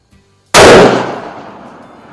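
A single loud, sharp rifle shot from a Savage Axis in .308 Winchester cracks close by, then rolls off in a fading echo after a brief moment of near silence.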